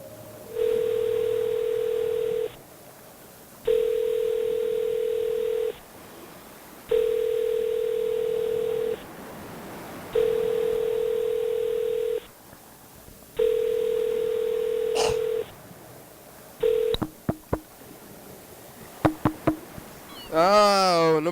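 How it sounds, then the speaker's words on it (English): Telephone ringing unanswered on a call to a McDonald's in Hilo, Hawaii: five long, evenly spaced electronic rings with pauses between them, loud and clear, followed by a few clicks and a brief voice at the end. "He's listening to the phone ring all the time."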